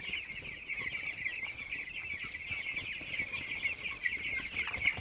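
Ten-day-old chickens on a poultry farm keep up a dense, continuous chorus of high chirping and clucking throughout, fairly soft and close, with no talk.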